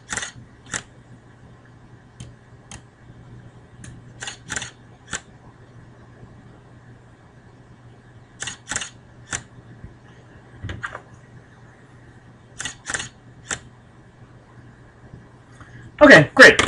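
A camera shutter fires in a photobooth sequence, with sharp isolated clicks in small groups spaced across a quiet background hum, ending in a louder burst of clicks.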